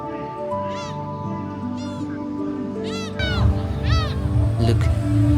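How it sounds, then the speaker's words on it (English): Gulls call overhead at a beach in Dalian, China, a few separate rising cries over steady low background sound that grows louder partway through. "Soon, it was just the sound of waves, seagulls flying overhead, and fishermen waiting patiently."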